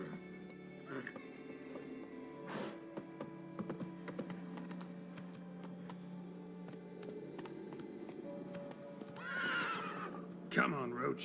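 Roach, Geralt's horse in The Witcher 3, clops along with steady hoofbeats, then lets out loud neighs and whinnies near the end, with faint jingling tack and background game sounds.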